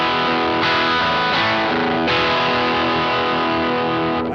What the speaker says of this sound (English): to give you a core basic overdriven sound